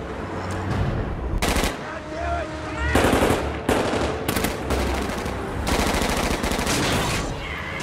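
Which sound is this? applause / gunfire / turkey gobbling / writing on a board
gunfire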